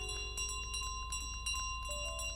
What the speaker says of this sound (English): Oh, the bell! Bell!